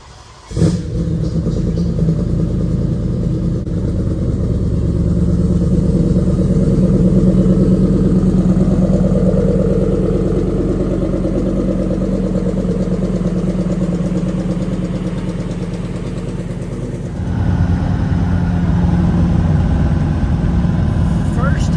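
A car engine drones steadily at highway speed on a long road trip, a loud, continuous low hum that dips briefly and then returns, with a voice talking over it.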